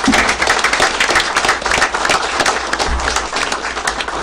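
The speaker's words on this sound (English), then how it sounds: "Give them a round of applause." Loud, dense applause from a county meeting audience for 4-H winners, a thick continuous roar of many hands clapping close by.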